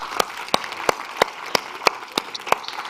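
Sparse, evenly spaced claps at a youth dialogue event on adaptation action, roughly seven sharp slaps over about three seconds from a small number of hands, close and distinct above a low background hiss.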